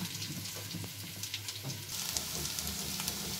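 Cauliflower florets frying in a pan, a continuous soft crackling sizzle like light rain with occasional stirring taps, fairly quiet and close, no talk.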